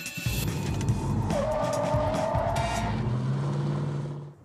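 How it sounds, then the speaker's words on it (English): A car reversing fast at about 35 to 40 km/h on a driving course, then turning hard, with loud engine roar and a long, rising tire squeal and skid lasting several seconds, close and without talk. "drivers must reverse 35 to 40 kilometers an hour. Then they must abruptly release the gas pedal before turning slightly one way,"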